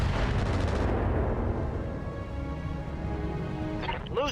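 Heavy mech weapons fire in the BattleTech RogueTech video game, a loud rumbling blast up front that decays into a low sustained roar, followed by a brief electronic chirping tone at the end.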